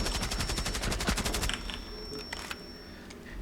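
Rapid automatic gunfire in Rainbow Six Siege, a fast burst of loud close shots for about a second and a half, followed by scattered single shots and clicks.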